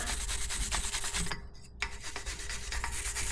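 Brake caliper screws on the rear brakes of an Acura RL are rubbed clean, a steady close scrubbing and rasping that runs continuously apart from one brief pause near the middle.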